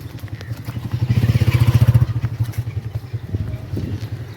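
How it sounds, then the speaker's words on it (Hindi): A motorcycle carries riders home from a graveyard, its engine putting loudly and close by, swelling to a strong rhythmic throb before settling into a steadier, slightly softer run. "अब जो जनाज़गाह की तरफ जाके मोटरसाइकिल पे बैठते हैं, फिर घर पहुंचते हैं।"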